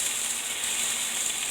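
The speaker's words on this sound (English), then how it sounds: "see if you can hear that sizzle as I put the pork chops in" Pork chops searing in a hot skillet, a steady, bright sizzling hiss that stays even and close throughout, with no talking.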